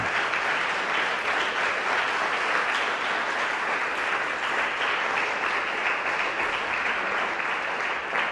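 A church congregation applauds steadily and loudly, a dense, sustained wash of clapping from many hands that holds at an even level throughout with no break.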